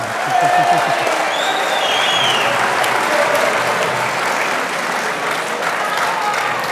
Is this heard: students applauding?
yes